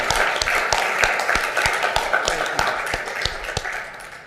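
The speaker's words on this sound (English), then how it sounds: "a big round of applause for all of our veterans" Audience at a city council meeting applauding veterans, a steady patter of clapping hands from a crowd, fairly close and sustained for several seconds before tapering off.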